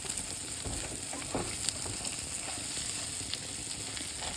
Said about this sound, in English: Make sure we get this butter melted.